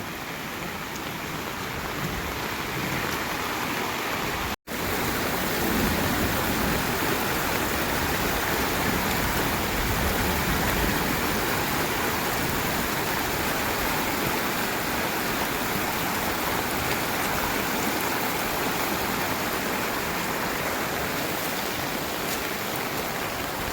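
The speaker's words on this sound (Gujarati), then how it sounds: "પાણીની ભમરી પડે છે ધોધમાર વરસાદ આવી ગયો છે" A heavy downpour roars over a flooding river with swirling water, a dense unbroken wash of noise that stays loud throughout and is briefly cut out once early on.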